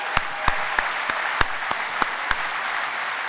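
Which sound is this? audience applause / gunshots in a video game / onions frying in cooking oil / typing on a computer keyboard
audience applause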